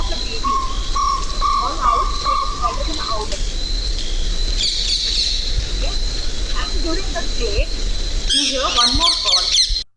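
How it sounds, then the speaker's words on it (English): A jungle owl calling amid a dense chorus of insects and other birds, with steady buzzing tones and repeated chirps running through the full ten seconds, and a burst of brighter calls near the end. "this is our beautiful jungle owl"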